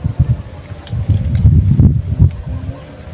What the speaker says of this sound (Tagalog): Medyo mahangin agad, maaga pa lang.